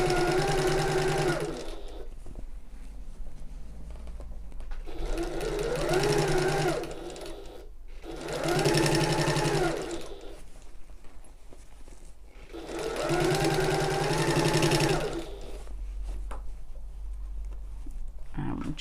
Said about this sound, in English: you can sew around the entire oval